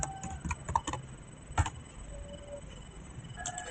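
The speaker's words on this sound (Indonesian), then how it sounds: "langsung saja ketikkan IP routing. Kemudian ketikkan do show IP root" Commands are typed on a computer keyboard for Cisco VLAN routing setup, with scattered close key clicks in small bursts and pauses over a quiet background.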